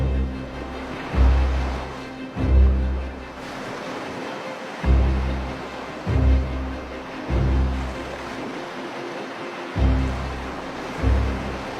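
Floodwater surging through city streets after heavy rain, a loud, continuous rushing roar with repeated heavy swells and crashes every second or two, close and without voices.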